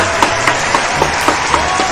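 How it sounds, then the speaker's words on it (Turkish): Contestants on a televised quiz show get loud, close applause with a steady rhythmic beat of claps, about four per second, and no talking over it. "Alkışlıyoruz sizi."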